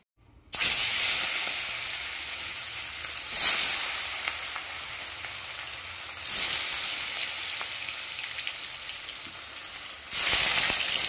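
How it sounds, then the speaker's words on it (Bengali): Catla fish pieces marinated with lemon juice, pepper and salt frying in a pan: a loud hissing sizzle starts abruptly and continues steadily, with a few fresh surges as more pieces go in and faint stirring, no talking. "চলো মাছগুলোকে প্রথমে আমার ভেজে নিতে হবে"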